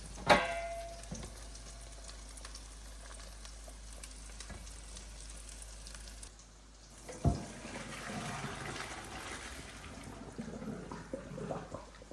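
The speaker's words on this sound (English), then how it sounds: "we're going to strain our pasta while this cooks" Shrimp sizzle in a pan while cooked pasta is strained, with a steady low sizzle and a rush of pouring, splashing water in the second half, plus a few clanks.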